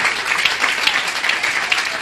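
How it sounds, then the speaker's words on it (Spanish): Dense, steady applause from a church congregation at an evangelical service in Tajumulco fills the whole stretch, loud and close, with many hands clapping at an even rate. "En aplauso a Cristo Jesús."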